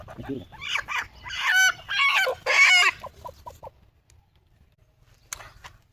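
Country chickens cluck loudly in a burst of squawks up close, followed by a few softer clucks and quieter moments.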